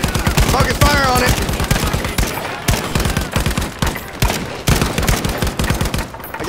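Loud, close bursts of rapid automatic machine gun fire in Battlefield 5, rattling in long repeated volleys with brief pauses, while a voice talks over the shooting.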